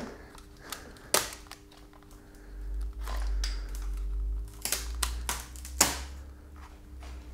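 Sharp cracks and snaps from the frozen underbody of an Audi RS4 sedan pop irregularly, some loud and close, over a low rumbling hum that swells in the middle.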